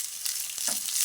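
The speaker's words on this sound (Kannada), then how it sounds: "ಆಯಿಲ್ ಹಾಕಿ ಈರುಳ್ಳಿನ ಫ್ರೈ ಮಾಡ್ಕೊತಾ ಇದ್ದೀವಿ." Onions fry in hot oil, giving a soft, short, continuous crackling sizzle with a faint scrape.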